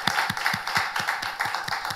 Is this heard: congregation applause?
yes